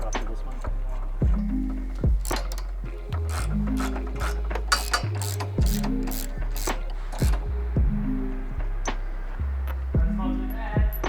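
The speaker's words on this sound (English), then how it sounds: "we'll bolt the braces on the front here now" A ratchet wrench tightening M6 bolts on rally bar braces for a Ford Ranger Raptor, rapid close clicking bursts repeating in regular strokes, separated by brief pauses and small metallic clinks.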